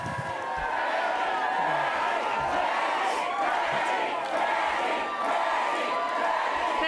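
Labor supporters at a 2022 Australian federal election night event cheer and shout as a sustained, dense crowd roar, loud and continuous throughout.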